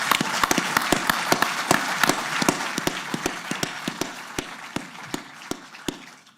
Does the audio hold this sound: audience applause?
yes